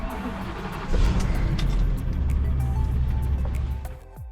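Camper van setting off on a drive in Bacalar, Mexico, a close engine and road rumble that swells as it pulls away, with a few faint clicks before it fades near the end.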